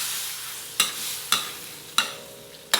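Beaten eggs are stirred into sautéed bitter melon in a hot pan: four sharp, evenly spaced knocks of a utensil against the pan ring out over a steady, close sizzle.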